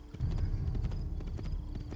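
Horse hooves clip-clopping at a steady walking rhythm in the video game Assassin's Creed 2, fairly close and continuous, with no talk over them.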